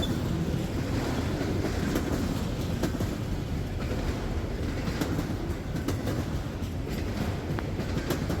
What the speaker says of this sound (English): The train is going under the former D&H signal tower here.